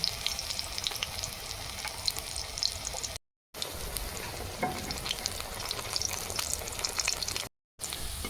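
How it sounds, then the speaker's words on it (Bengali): Pumpkin flower fritters fry in hot oil, a steady close bubbling crackle that runs throughout, cut by two brief moments of silence. "বাকি বড়াগুলো এইভাবে আমি ভেজে নেব"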